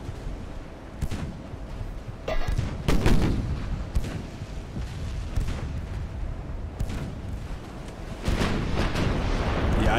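Naval guns fire in the battleship game Ultimate Admiral: Dreadnoughts with repeated loud booming salvos at irregular intervals, each followed by rumbling echoes over steady background noise.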